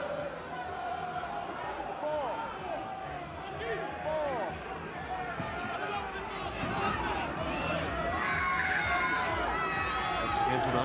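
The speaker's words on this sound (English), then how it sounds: "The big crowd here in Gloucester enthralled by this contest" A big rugby crowd at Gloucester for a Guinness Premiership match against Saracens keeps up a steady, rising roar of chatter and cheering in a stadium, with a commentator talking over it throughout.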